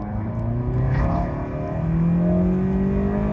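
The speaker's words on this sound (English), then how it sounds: "the velocity stack does sound a lot more throatier hearing it in person" A car engine fitted with a K-Tuned velocity stack intake revs steadily with a deep, throaty intake roar, the pitch climbing gradually across the few seconds, loud and close.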